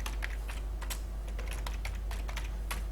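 Fingers type on a computer keyboard while entering a comment into an R script, a close, quick irregular run of light clicking keystrokes over a low steady hum.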